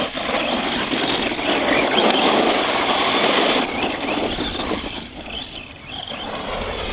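A Maverick Quantum 2 Flux RC car on a stock 2S setup drives on rough ground, its steady electric motor whine and crunching tyre noise fairly loud and close before easing off near the end.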